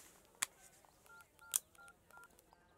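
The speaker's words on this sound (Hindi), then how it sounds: "चल भाई को फोन लगा।" Touch-tone keypad beeps as a number is dialed, a quick series of short tones with a couple of louder clicks, quiet room behind.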